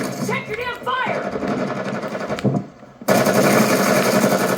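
Rapid automatic gunfire in the mobile shooter Call of Duty Warzone Mobile, sharp bursts mixed with game noise, briefly under a man's speech, then a sustained loud rattling stretch after a short drop.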